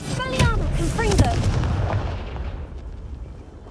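A Confringo blasting curse goes off in Hogwarts Legacy as a booming, fiery explosion with a long rumbling tail that slowly fades, accompanied by whooshing spell effects near the start.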